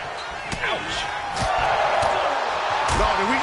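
Heavy body-blow impacts from a wrestling video game featuring Carlito land in several sharp thuds over a steady crowd roar, with a commentator talking throughout.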